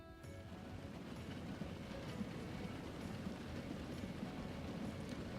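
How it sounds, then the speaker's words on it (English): Steam train running in Transport Fever in an 1875 setting, a steady rumbling rail roll with faint clattering, moderately quiet and continuous without pauses. "There's our other train over there."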